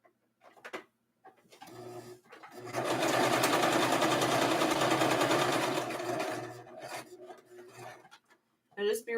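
Sewing machine running in one continuous stitching burst around a fabric makeup bag, starting and stopping amid quiet handling sounds.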